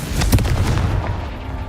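A loud, close fiery blast from a Confringo spell in the Hogwarts Legacy video game, one booming explosion with a rumbling tail that fades over about a second, no voices over it.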